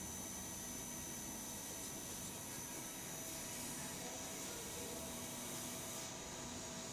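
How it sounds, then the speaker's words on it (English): CNC machine spindle spun up to a higher speed with the tool indented in the workpiece, producing a steady, even, high-pitched whirring roar that stays constant throughout without speech. "Now I have just increased the speed of the spindle."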